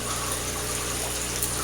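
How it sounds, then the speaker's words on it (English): Water pouring steadily through a PVC drip overflow on a tank, a continuous close splashing gush with no pauses. "we'll just see if we can get water to flow through both of them"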